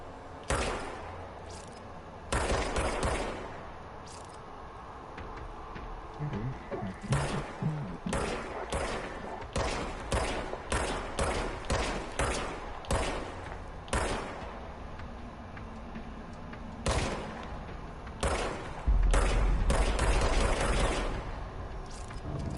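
The service weapon in the video game Control fires on PS4, with sharp, loud shots in short bursts and scattered single cracks over a low game ambience and no voices.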